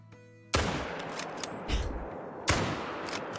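Rifle shots at geese in the hunting game Call of the Wild ring out as two loud, sharp cracks a couple of seconds apart, each trailing into a long fading echo across open terrain, with a softer thump between.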